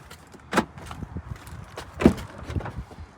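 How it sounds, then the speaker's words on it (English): Two sharp clunks a second and a half apart as the door of a lifted 2020 Ram 1500 pickup is opened, with softer shuffling and small knocks around them. "Open the door."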